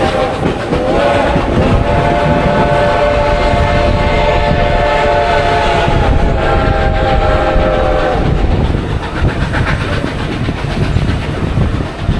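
A freight train with hoppers of rail ties rumbles steadily past with a long, loud horn blast sounding for several seconds over the rolling wheel noise.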